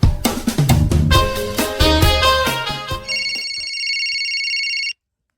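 A cellphone rings loudly beside a table in a comedy drama scene, a bright melodic ringtone followed by a sustained electronic tone that cuts off abruptly, with music-like clutter early on and no speech.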